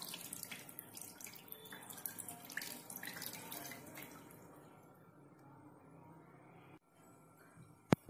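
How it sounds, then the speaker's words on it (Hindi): Soaked flattened rice (poha) squeezed by hand to press out the water, giving a steady wet trickling and dripping close by that thins out toward the end, with one sharp tap near the finish. "इस तरह हाथ से हम इसको प्रेस करेंगे बिल्कुल हल्का हल्का, और इसका पूरा पानी हम निकाल लेंगे अच्छी तरह।"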